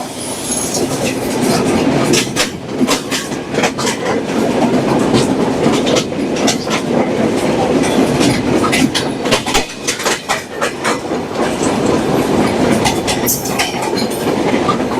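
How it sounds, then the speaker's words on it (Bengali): The Chilahati Express passenger train rolls through the Tejgaon railway station area in Dhaka: a loud, steady rumble of wheels on rails with rhythmic clattering and occasional metallic squeals. "মেঘলা আকাশ সেই সঙ্গে লাল সবুজের পতাকা মিশ্রিত চিলাহাটি এক্সপ্রেস ট্রেন"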